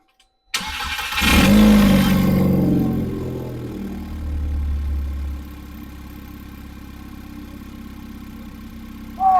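A swapped engine in an MK6 VW GTI cranks and catches, surging loud for a couple of seconds, then settles back into a lower steady idle that drops again before a faint final noise.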